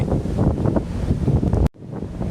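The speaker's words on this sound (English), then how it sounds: "It's super windy." Strong wind by the sea on Hokkaido, a loud buffeting roar on the microphone that cuts out briefly then returns, with no voices.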